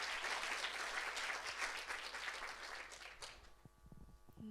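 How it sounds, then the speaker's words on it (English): An audience at a women-in-tech startup funding event applauds a pitch, a dense burst of clapping that gradually thins and dies out in the last second, giving way to quieter room tones and faint stage sounds. "Round of applause for Master Match."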